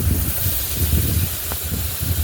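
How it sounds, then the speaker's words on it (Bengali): Fried potatoes go into hot spiced oil in a pan while an egg curry cooks, giving a steady, fairly loud hiss of frying that holds evenly throughout. "এরপর দিয়ে দিচ্ছি ভাজা আলু।"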